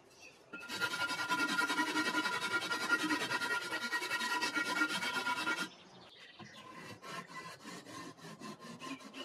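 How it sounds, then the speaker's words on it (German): Rapid, gritty rasping strokes of a rasp filing an aerated concrete block scrape steadily for several seconds, then give way to lighter, quicker scratching that continues to the end. "entferne ich nun Überschüssiges mit Säge und Raspel und mache die Standfläche schön plan"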